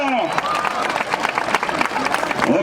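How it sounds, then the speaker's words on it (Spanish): Crowd at a jaripeo rodeo in Santa Fe de la Laguna, Michoacán, applauding and cheering loudly and steadily throughout, with an announcer's voice talking over the dense clapping. "Te pido nuevamente el aplauso público."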